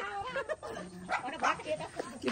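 A dog yelps, whimpers and gives short barks at close range, overlapping with people talking nearby, in a brief and fairly faint burst.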